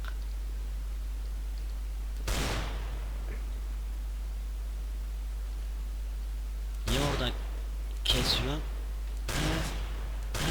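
Desert Eagle pistol shots in the game CS:GO, a few sharp bursts spaced across the clip: one early, then a cluster of three near the end, over a quiet low hum.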